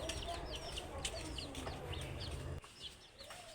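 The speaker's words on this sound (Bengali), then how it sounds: "মুরগিগুলোকে ঘরে ওঠানোর আগে খেতে দেওয়া হয়েছে" Chickens clucking close by as they are fed before being shut in for the night, a run of short quick clucks and chirps over a low rumbling background that briefly drops away near the end.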